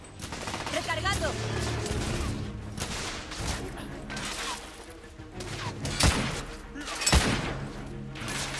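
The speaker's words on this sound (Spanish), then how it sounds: "¡Recibo fuego intenso!" Heavy gunfire in The Order: 1886, dense overlapping bursts of shots with a few sharp, louder cracks and thuds near the end, set against a busy combat din.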